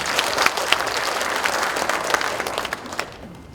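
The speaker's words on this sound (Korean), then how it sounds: "멀리 양해에서부터 오신 만큼 뜨거운 박수로 맞이해주시기 바랍니다" Warm applause from an audience in a hall at a rally backing a cableway project, a steady dense wash of many hands clapping together, fairly close and continuous, thinning slightly toward the end with no talking over it.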